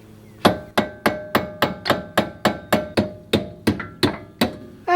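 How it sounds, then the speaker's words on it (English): A hammer taps a worn brake drum bearing on a car, fourteen sharp metallic ringing strikes at a steady, even pace, loud and close, each one decaying briefly before the next. "give it a few taps."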